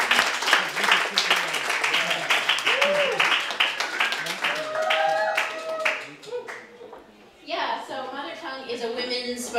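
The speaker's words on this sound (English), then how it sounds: "Let's give a big, big warm round of applause for Liz Prescott!" An audience at a spoken word poetry event claps and cheers under a presenter's loud voice. The applause stays steady and then tapers as the talk continues.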